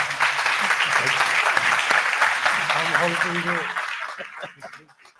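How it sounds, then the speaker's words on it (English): A crowd applauds warmly, a dense patter of clapping with a few voices and chuckles mixed in, fading out toward the end. "Let's give them a round of applause."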